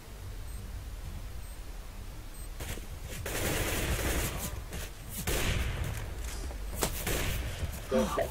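Rapid gunfire bursts from the video game CS:GO, mixed into steady game ambience with several loud volleys and single sharp shots spread across the stretch.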